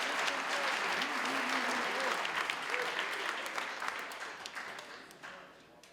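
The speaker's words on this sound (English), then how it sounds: "A big round of applause to Wayne, ladies and gentlemen, as well, for presenting the award." At a civic and community awards ceremony, the audience claps for an award presenter: a dense, fairly loud round of applause that gradually thins and fades toward the end, with faint voices murmuring underneath.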